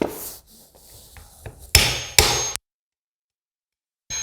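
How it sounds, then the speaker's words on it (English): A hammer strikes a pin into a classic rifle in a workshop, with several light taps and then two sharp, loud metallic blows, before silence falls. "Gonna have to hammer it, I think."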